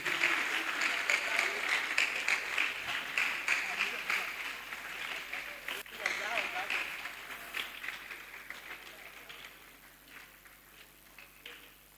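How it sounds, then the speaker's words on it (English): Audience applause at a memorial lecture in a hall, a steady wash of many hands clapping that runs throughout and slowly fades toward the end. "That applause is too weak for somebody who took time off his busy schedule today."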